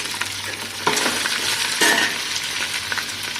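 Whole spices (cardamom, cloves, cinnamon, star anise) and bay leaf sizzle in hot oil for Afghani pulao, a steady close frying hiss broken by a couple of stirring scrapes, with no talking.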